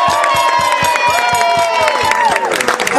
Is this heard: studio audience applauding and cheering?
yes